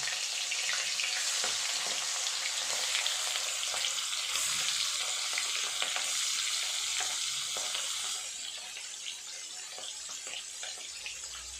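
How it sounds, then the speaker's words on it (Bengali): Peeled prawns frying lightly in oil in a pan produce a loud, continuous close-up sizzle with faint crackles, which softens slightly toward the end. "চিংড়ি মাছগুলো হালকা করে ভেজে নেব।"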